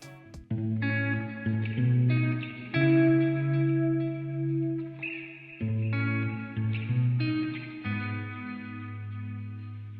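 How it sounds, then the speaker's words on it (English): Electric guitar playing a lower foundation part for a pop song verse, clean sustained chords with echo and reverb changing every second or two, moderately quiet and alone without voices. "I have two main guitars playing."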